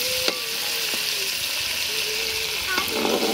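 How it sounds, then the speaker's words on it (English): Fish fries in a pan with a bright, steady sizzling hiss close by, marked by a few scrape or clink accents, while a voice talks faintly underneath. "So it's time to fry our fish."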